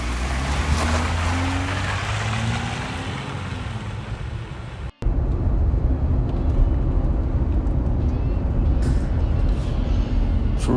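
A Jeep Gladiator pickup with live front and rear axles drives on the road, a steady low engine and road rumble running throughout with one brief cut near the middle and a faint rising whine early on.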